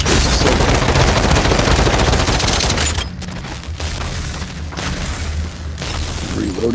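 Gunfire in the VR battle royale game Population: One sounds as a dense, loud barrage at first, then continues as scattered sharper shots over a noisy game background.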